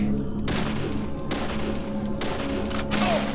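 Gunfire in the video game Deadly Premonition: several sharp, loud shots fired in an uneven sequence, the last two close together, over a steady, dense game soundtrack.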